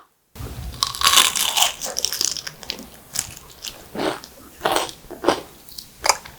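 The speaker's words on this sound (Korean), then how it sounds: "바삭바삭하는 소리 들리죠?" Crisp crunching bites of a fried radish pancake, several loud crackly crunches in a row followed by chewing, close up.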